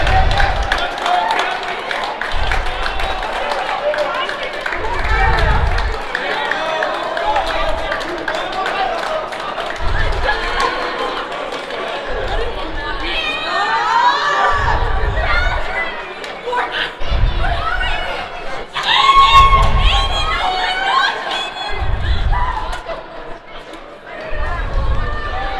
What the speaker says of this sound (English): And Lady Bruins have a cheering section here with the JV Bruins team here to cheer them on.